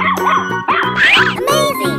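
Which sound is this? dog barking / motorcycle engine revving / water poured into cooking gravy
dog barking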